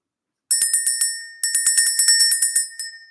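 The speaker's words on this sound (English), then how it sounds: "Let's ring the bell, let's clear the energy" A small bell is struck in a spiritual energy-clearing ritual, giving bright, sharp rings in two quick bursts of rapid repeated strikes that decay briefly between hits, close and clear, with no talking.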